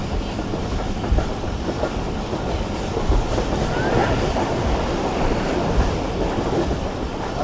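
Two Pakistan Railways ZCU locomotives hauling a heavily loaded train roll past with a loud, steady rumble and clattering wheels that fill the whole stretch, with no talking.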